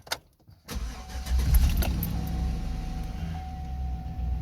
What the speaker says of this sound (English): So right now we're going to turn the engine on.